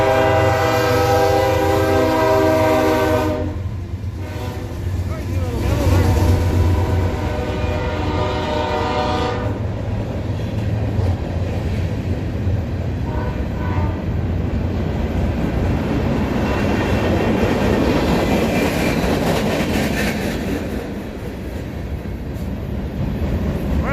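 A train rumbles past loudly and close in Wickenburg's historic old town, its horn sounding with steady tones at first, then the rolling clatter of cars continues throughout.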